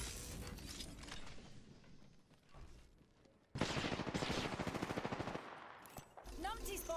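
Gunfire erupts in the Apex Legends video game: a rapid automatic burst dominates the middle, with scattered shots and game sounds before and after, mixed with in-game voice lines.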